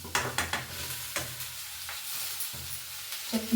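Potatoes tumble into a hot frying pan in a home kitchen, with a few sharp clattering drops and stirring scrapes over a low, steady sizzle.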